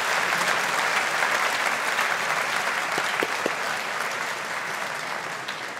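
A large audience at a university Faculty of Science graduation ceremony claps together in a dense, sustained wash of applause that holds steady and tapers only slightly toward the end.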